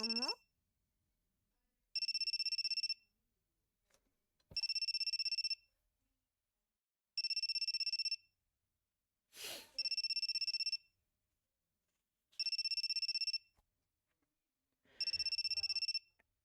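Mysterious cell phone in the Eden of Grisaia video game ringing with a repeated electronic ringtone, six evenly spaced one-second bursts separated by pauses, with a brief soft sound between rings.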